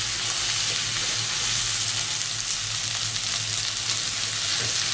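Pieces of kadai chicken fry in a wok in a Bengali kitchen, producing a constant, close and even sizzle with a faint crackle and no voices.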